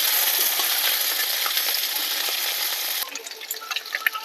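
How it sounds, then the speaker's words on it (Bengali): Potatoes fry in hot oil with cumin seeds in a kadai, a loud, even sizzle that suddenly quietens into scattered crackles and small clinks near the end. "আলুটা ভালো করে ভেজে নেব"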